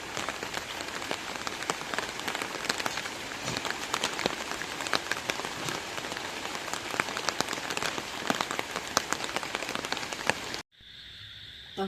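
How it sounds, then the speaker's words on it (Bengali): Steady rain pours down in a rural village after three days of nonstop downpour, a dense hiss of drops pattering on surfaces with scattered louder splashes, continuing until it cuts abruptly near the end. "গ্রামে আমাদের বৃষ্টি হচ্ছে"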